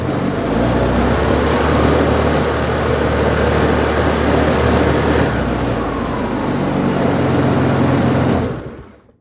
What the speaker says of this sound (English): if I start the bike up now, it's going to get noisy, but hopefully you can see. Let's start it up.